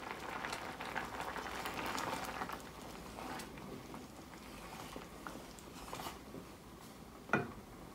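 Home-canned Fiesta Ranch pinto beans simmer down in a pot, a soft steady bubbling and popping patter with occasional sharper pops, no voices.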